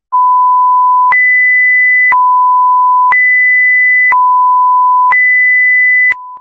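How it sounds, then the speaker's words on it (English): Industrial public address general alarm for flammable gas, a loud two-tone electronic signal switching between a lower and a higher pitch once every second, six steady steps with no talk. "Flammable gas alarm,"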